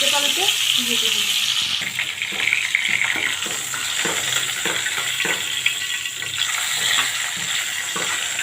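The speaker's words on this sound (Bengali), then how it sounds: "এখানে উল্টে পাল্টে ভেজে নেব।" Koi fish frying in oil in a pan and being flipped, giving a loud, continuous hissing sizzle with soft scraping turns, close up and with some talk underneath.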